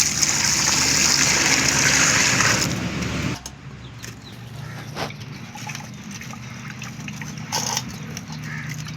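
Water pours steadily into a mixer jar for grinding curry paste for a fish head and tail curry, a loud gushing that runs for about three seconds, then stops, leaving quieter kitchen clatter.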